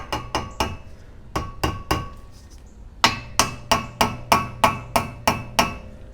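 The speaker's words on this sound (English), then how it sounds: "So you can tap it with a hammer slightly." Sharp metallic hammer taps on a brake rotor cap in a steady series, close and fairly loud, with a short pause before a quicker, evenly spaced run of strikes.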